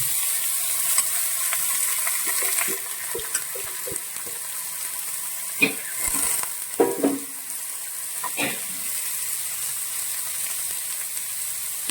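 Oiled banana flower pieces dropped into a hot pan for a traditional thoran give a steady, bright sizzle with scattered clinks and stirring knocks, close by and without speech.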